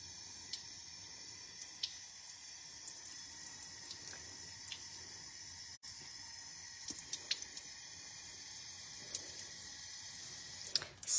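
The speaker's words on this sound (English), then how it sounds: "And now I'm just rinsing off excess." Water runs faintly from a tap while excess paint is rinsed off a clay coaster, a quiet steady flow with scattered small drips and clicks.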